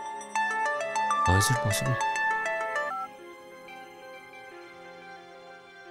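A melodic phone ringtone plays for a few seconds alongside a brief burst of noise, then continues more quietly while a person speaks over it.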